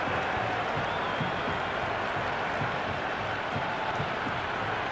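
A packed stadium crowd in the Cricket 26 video game roars and applauds steadily, a broad, even wash of cheering that holds at a constant level throughout.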